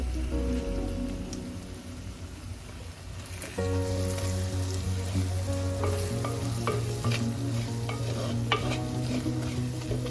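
A spoon presses and stirs cooked-down tomatoes in a pan of Kerala fish curry over steady sizzling. Soft scraping and squelching sit over a constant frying hiss, close and fairly loud, with no talking.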